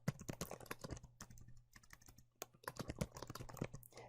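Rapid typing on a very small computer keyboard, close and fairly quiet, with irregular bursts of crisp key clicks and a few brief pauses between them.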